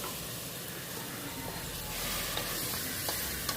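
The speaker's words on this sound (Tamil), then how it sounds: "இப்போ ஃபைனலாக வந்து நம்ம எடுத்து வச்சுருக்கிற இந்த நெஞ்செலும்பை வந்து இது கூட சேர்த்துடலாம்." Mutton chest bones go into sizzling masala in a pan, giving a low, steady frying hiss with faint stirring sounds that swell slightly toward the end.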